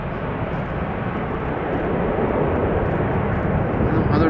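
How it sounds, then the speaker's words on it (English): Delta Airlines airliner taking off from Schiphol's Polderbaan, a steady powerful jet roar that swells slightly toward the end, with a voice faintly present under the engine noise. "Delta Airlines flying out"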